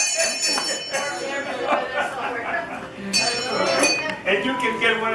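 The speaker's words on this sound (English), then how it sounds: "Ring the bell." Bright metallic bell rings at a Renaissance-style birthday feast in a castle hall, several struck tones ringing out over lively chatter and clinking dishes.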